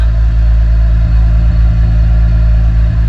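A Lexus IS with a resonator delete and aftermarket mufflers idles just after start-up, giving a loud, deep, steady exhaust drone with a low rumbling pulse throughout.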